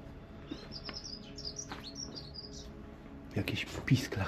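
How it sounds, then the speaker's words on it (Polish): Bird chick in an old, long-empty house repeatedly chirping high and thin as it begs for food, steady calls in the first half, with louder knocking and rustling sounds near the end. "Jakiś pisklak domaga się jedzenia."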